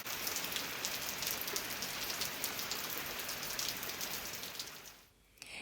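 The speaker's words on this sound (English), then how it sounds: "One evening in the middle of June, it rained." Steady rain falls on a June evening in a dry Mediterranean cutting garden, a dense, even patter of drops on leaves and surfaces that thins out near the end.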